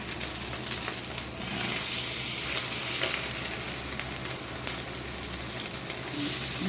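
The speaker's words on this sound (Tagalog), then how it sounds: "butang na ang salmon sa kalaha guys" Salmon fries in a hot pan, a steady close crackling sizzle with scattered pops and spits running continuously, with no talk over it.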